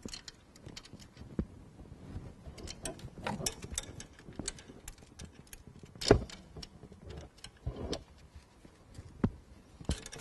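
A ratchet wrench tightens glow plugs on a Renault Scénic dCi diesel engine, giving scattered quiet clicks and metallic ticks with a few sharper knocks, heard close and faint against a soft background.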